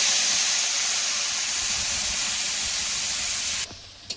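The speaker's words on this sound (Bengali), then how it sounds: "পেঁয়াজটা একটু ভাজা হয়ে গেছে।" Onion paste frying in a pan with black cumin (kalo jeera) for a Bengali fish kalia, a loud, steady broadband sizzle and hiss that holds evenly for several seconds before dropping off sharply near the end.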